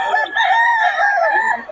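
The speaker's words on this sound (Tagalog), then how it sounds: "Maraming manok ngayon dito." A rooster crows loudly and close, one long sustained call with overlapping crows, no talking.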